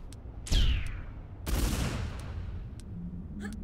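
Enemies fire on the player in the video game Tomb Raider 3: two loud, close bursts of gunfire about a second apart, each fading off, over a steady game background.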